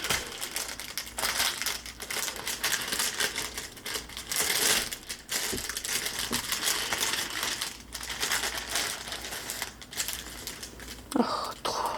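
Plastic wrapping on a cross-stitch kit package crinkles and crackles steadily while it is opened close up, with soft handling noises and a brief quiet voice near the end.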